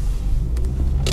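Lada Granta 2020 with automatic transmission rolling through fresh snow, its engine a steady low rumble throughout with a couple of faint crunchy hisses near the end.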